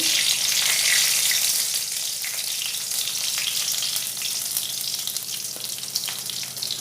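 A halved bay leaf sizzles and fries in hot oil with melted sugar in a pan, giving a steady, close, crackling hiss with faint stirring and no talk.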